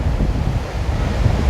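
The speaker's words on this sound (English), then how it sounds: "You can see that the waves are quite rough today" Wind buffets the microphone in a loud, uneven roar on the Aberdeen promenade, with the rough sea's surf blended into the low rushing noise.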